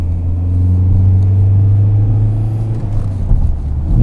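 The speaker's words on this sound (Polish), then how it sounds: "No, słychać turbinkę jak mucha." A Rover 75 2.0 CDT diesel car driving, heard from inside as a steady, loud low engine drone with a faint turbo whine riding over the rumble, easing off slightly toward the end.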